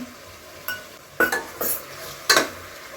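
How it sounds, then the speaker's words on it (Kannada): Chicken liver fry being mixed in a pan, several sharp metal spoon scrapes and clinks against the pan over a faint background sizzle. "ಇನ್ನೊಂದ್ಸತಿ ಕ್ಲೀನಾಗಿ ಮಿಕ್ಸ್ ಮಾಡ್ಕೊತೀನಿ"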